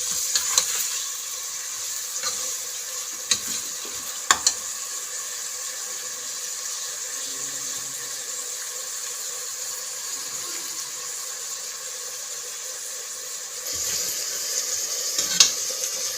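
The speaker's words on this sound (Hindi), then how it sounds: "जो फ्लेम है उसको हमने मीडियम रखना है ताकि हमारे प्याज जले नहीं और इन पे अच्छा सा लाइट ब्राउन कलर आ जाए" Onions frying in oil on a medium flame for chicken degi korma, a steady bright sizzle running throughout, with occasional stirring scrapes and clicks near the start and end.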